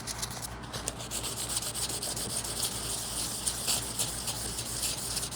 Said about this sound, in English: on to sanding.